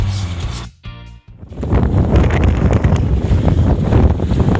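Roaring wind buffets the microphone aboard the sailboat S/V Sea Wolf in about 19 knots on the passage from Pompano Beach to Marathon, loud and constant after a brief lull, with water and hull noise mixed in.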